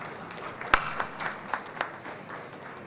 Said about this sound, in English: request each and every one of you to kindly applaud for a wonderful panelist